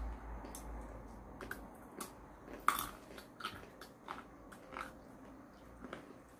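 Raw chestnuts are bitten and chewed nearby, giving faint, scattered crunches and crisp snaps over a quiet room.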